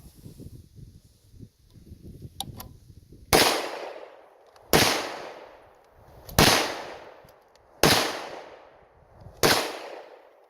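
A Marlin model 336 rifle chambered in 30-30 Winchester fires five loud, sharp shots at a steady outdoor pace, each crack trailing off into a short echo, after a few quiet seconds of faint background activity.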